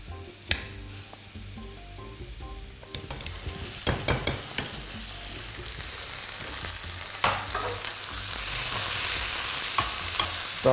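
Mushrooms with mashed boiled potato frying in a pan, a bright sizzle that swells louder toward the end, punctuated by sharp scrapes and clatters of stirring.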